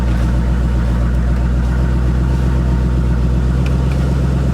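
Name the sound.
car engine running after being turned on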